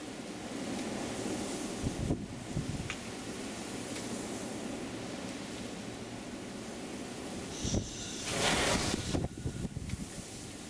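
Wind blowing outdoors, a steady rushing roar with a couple of stronger gusts buffeting the microphone, no voices.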